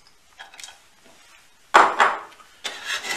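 Sultanas and coated sunflower seeds being mixed in a pan, with scraping, rustling and clattering stirring sounds in a few short bursts, one louder scrape in the middle, close and without talk.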